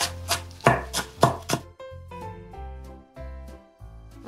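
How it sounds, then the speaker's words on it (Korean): Knife chopping Cheongyang chili peppers on a board, a burst of close, sharp chops in the first second and a half, then quieter tonal clinks and thuds with no voices. "청양고추도 쫑쫑 썰어 넣을 거예요."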